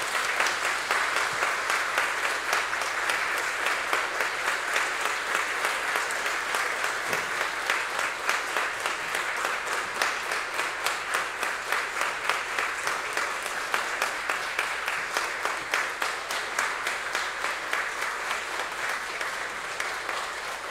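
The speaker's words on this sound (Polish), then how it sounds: "Teraz jeszcze raz brawa dla nowego doktora honoris causa." An audience at an honorary doctorate ceremony applauds a new honorary doctor, with sustained, even clapping that fills the room, steady and fairly loud, with no speech over it.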